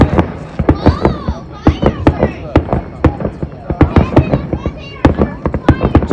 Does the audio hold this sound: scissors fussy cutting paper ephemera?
no